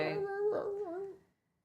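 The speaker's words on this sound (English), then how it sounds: "That's my dog." A dog whimpers indoors in a few high, wavering whines that fade to silence, close and fairly clear with no talking over it.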